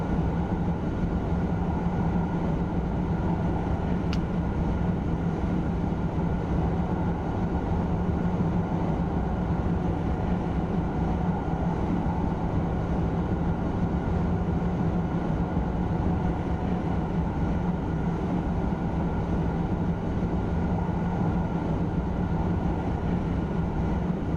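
Simulated TGV Reseau high-speed train running on the Northeast Corridor in Train Sim World 2021, a steady loud rumble and hum of the train at speed, continuous and unbroken throughout.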